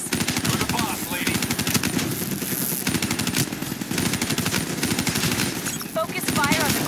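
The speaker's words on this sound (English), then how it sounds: "Focus fire on the cooling rods in the tower surrounding Diaz." Rapid automatic gunfire fills a battle in the video game Chronicle of War 2070, a loud, continuous rattling stream of shots with brief dips that carries on throughout.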